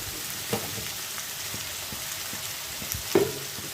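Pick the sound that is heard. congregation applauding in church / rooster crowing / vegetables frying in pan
vegetables frying in pan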